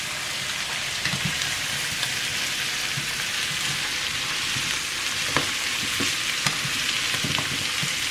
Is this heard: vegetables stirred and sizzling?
yes